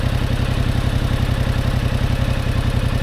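A motorcycle engine runs steadily at a low idle while the bike creeps along at walking pace, a loud, close, even rumble with no pauses.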